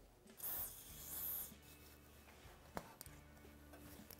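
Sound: silicone spray from a can

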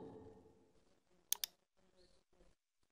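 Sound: computer mouse clicks while drawing in CAD software

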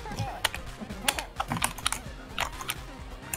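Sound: computer keyboard typing

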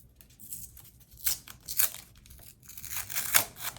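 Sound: tearing open a paper surprise packet

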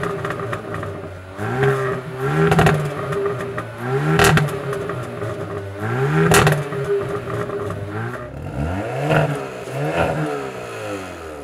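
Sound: sports car exhaust revving

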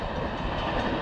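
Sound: train passing on railway tracks

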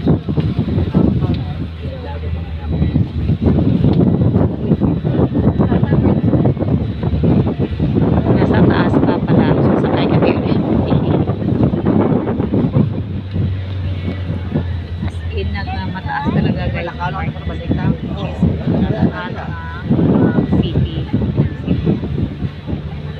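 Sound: wind blowing

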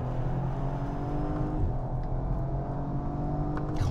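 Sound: Audi RS5 Sportback engine revving

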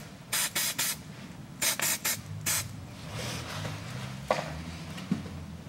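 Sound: spraying copper grease onto bolts

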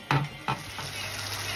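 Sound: sardine sauce with added water boiling

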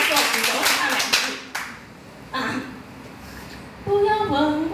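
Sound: audience clapping

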